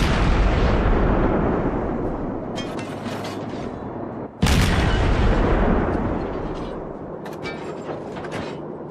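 Torpedo hits on ships in World of Warships, played from the destroyer Benson: two heavy booming explosions a few seconds apart, each followed by a long roaring rumble, loud with crackling debris and no voices.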